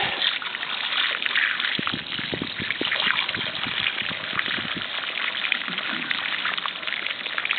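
Water runs steadily from a valve on an Ottaway steam train, a splashing, trickling rush that continues evenly throughout, fairly close.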